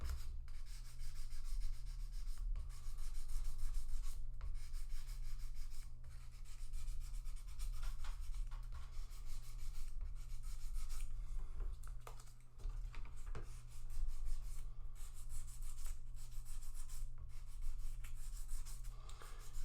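Folded sandpaper rubbed along the sides of guitar frets during a partial fret dressing, a steady dry scratchy rasping that continues in repeated strokes throughout, close and moderately quiet over a low background hum.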